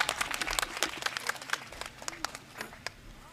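A crowd at a political party rally claps to welcome a speaker to the microphone, a fairly faint, scattered patter of hand claps that thins out toward the end.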